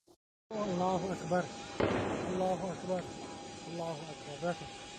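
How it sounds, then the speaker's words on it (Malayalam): Gunfire recorded on a selfie camera during a zip-line ride. Sharp, fairly faint bangs ring out amid shouting and chanting voices, with one prominent crack standing out from the commotion. "സിപ് ലൈനിലൂടെ പോകുമ്പോൾ വെടിവയ്പ് നടക്കുന്നതും ആളുകൾ ചിതറി ഓടുന്നതും"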